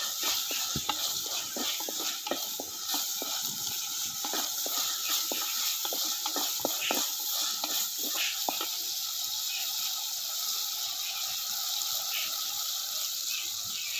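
Curry leaves crackle and sizzle in a pan of sautéed tomatoes for a Kerala-style sardine curry, a steady hiss broken by sharp popping bursts early on, then settling into an even, close frying hiss.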